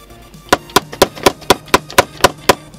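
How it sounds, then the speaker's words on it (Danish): A hammer knocks a ball bearing into a scooter wheel in about nine sharp, evenly spaced metallic blows, close and loud, with no talk. "Og banker kuglejet i."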